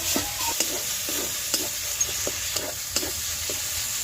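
Spices with a little Kashmiri chilli powder frying in oil in a pan, with a quiet, steady sizzle and soft, regular scrapes of a spoon stirring, close and without any talk.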